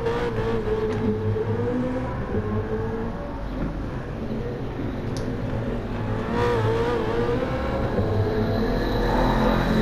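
A BMW M3 GT with a 4-litre 32-valve V8 roars continuously in the GT Sport racing game at the Nürburgring circuit, loud and steady with rising and falling revs as it accelerates through gears.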